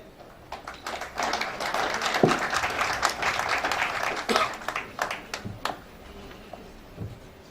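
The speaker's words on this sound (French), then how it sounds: "Let's give them a round of applause again as they are going back to their seats." Applause from a seminar audience, a moderate wash of clapping with scattered sharper claps, building and then thinning out toward the end, heard at a modest level with no speech.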